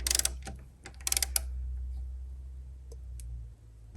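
Sharp clicks from a torque wrench tightening bolts on a 4G63 engine, quick clustered bursts of clicking near the start and again around the one-second mark, then fainter isolated ticks over a low steady hum.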